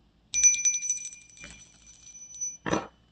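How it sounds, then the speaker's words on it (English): A handheld bell is rung repeatedly for about two seconds, a bright, close, sustained ringing, then a short burst of speech follows. "Cover your ears. I'm going to ring the bell."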